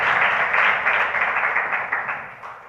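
A crowd at a religious discourse claps together in approval, a dense, even burst of applause that holds steady, then thins and fades toward the end.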